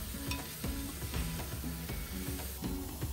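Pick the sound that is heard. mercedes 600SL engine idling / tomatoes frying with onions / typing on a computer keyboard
tomatoes frying with onions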